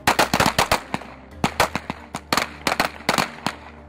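Gunshots crack at a firing range during corrections officer training, sharp loud reports fired in rapid irregular bursts with brief pauses between volleys.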